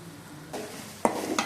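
Coconut milk fish gravy sautés in an aluminium pan, a soft close sizzle broken by two or three sharp stirring scrapes near the end.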